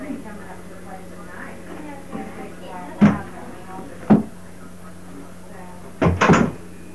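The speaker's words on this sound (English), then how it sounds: "Did you shut the door?" A cupboard or door knocks shut several times in a quiet room, sharp bumps with a double knock near the end, while a low hum runs beneath.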